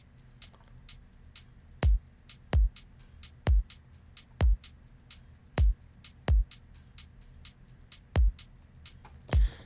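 Kick drum pattern in a music production session: about eight deep, punchy thumps at a steady beat, each with a bright click, over a faint high hi-hat ticking and low hiss, with no other instruments.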